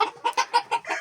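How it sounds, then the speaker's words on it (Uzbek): Decorative chickens cluck nearby in a series of about six short, loud, evenly spaced calls, clear and close with no talk. "Ko'pchilik mendan so'rayapti dekorativ tovuq."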